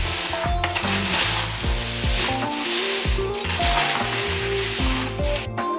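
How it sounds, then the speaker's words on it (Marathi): A spice masala with Kashmiri red chillies is stirred in a pan, giving a loud continuous sizzle and crackle with repeated scraping strokes. "आणि छान असं हलवून घेऊया."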